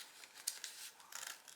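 Scissors snip through folded paper for a children's picture-book craft, a few soft, crisp cuts close by with faint paper rustle between them.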